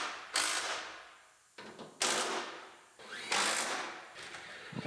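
Clamps are cranked tight during a B-pillar repair on a T-boned Honda CR-V, with three loud bursts of ratcheting and mechanical grinding, each fading away, close up and without speech.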